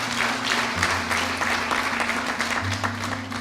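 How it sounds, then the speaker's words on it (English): An audience at a motivational talk applauds in a dense, steady patter of clapping, heard over a low electrical hum. "Give him a round of applause."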